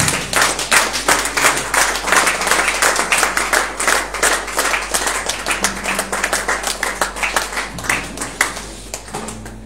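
A church congregation claps and applauds together at a Friday worship service, a dense, steady wash of many hands lasting throughout, loud and close, with no talk over it.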